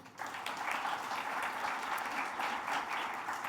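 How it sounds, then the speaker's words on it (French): Continuous audience applause rises at a BIM construction summit workshop, steady and even for several seconds, heard at moderate distance with no voices over it. "Bonne main d'applaudissement, s'il vous plaît."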